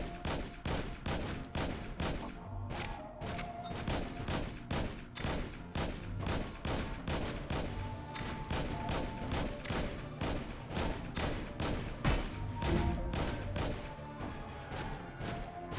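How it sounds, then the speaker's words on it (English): Rapid, sustained turret gunfire in a video game demo, a dense stream of sharp shots repeating steadily and loudly across the whole stretch with occasional heavier impacts mixed in. "I'll let the turret handle them"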